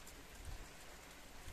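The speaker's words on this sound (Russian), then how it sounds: "А у нас дождик," Steady rain falls in a garden, a dense continuous hiss of drops on surfaces with low rumbles that may be distant thunder.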